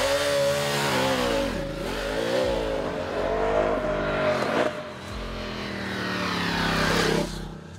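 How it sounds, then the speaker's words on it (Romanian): A Ducati Diavel 1260 S motorcycle engine roars close by, a deep, loud growl that swells and dips with repeated throttle blips and revs. There is no talking, just the engine throughout. "sunetul motorului este înfiorător, rage ca un bivol înfuriat"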